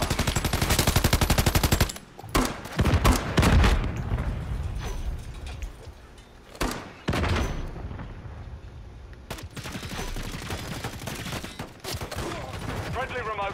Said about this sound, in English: And a sentry gun.